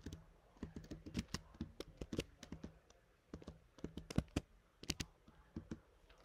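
Quiet typing on a computer keyboard, irregular bursts of light key clicks with brief pauses, close and faint, as a formula syntax query is entered.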